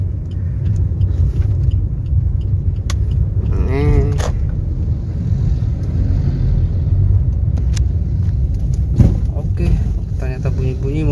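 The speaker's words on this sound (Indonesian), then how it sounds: "Bunyi mobilnya" Suzuki Ertiga rolling along a road with its speedometer not working, a steady loud low rumble of engine and tires with wind buffeting, while people talk inside the cabin.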